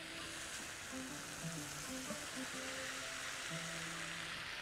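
Rice frying in a seafood paella pan gives a continuous close sizzle with faint stirring scrapes throughout, steady and without speech.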